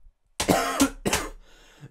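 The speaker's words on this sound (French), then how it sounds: "On entend tousser" A person coughs three times in quick succession, loud and close, ending with a brief throaty rasp, as workers cough in a stage play.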